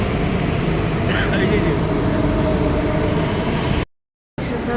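Loud, continuous low rumble of a Delhi metro train in motion arriving at a station, steady and close, cutting abruptly to silence briefly near the end.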